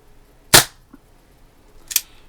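A Daisy Red Ryder BB pistol fires two sharp, close snaps about a second and a half apart, with a faint tick between them, each shot loud and isolated against quiet surroundings.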